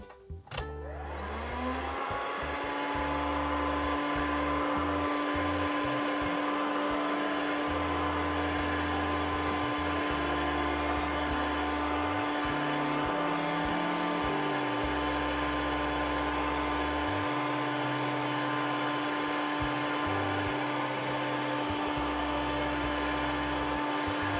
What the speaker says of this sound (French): je vais chauffer l'intérieur sur le côté droit et l'intérieur sur le côté gauche